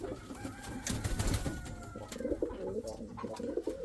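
Indian fantail pigeons coo in a coop, a steady overlapping murmur of low rolling calls close by, with a few brighter chirps and rustles mixed in and no one speaking.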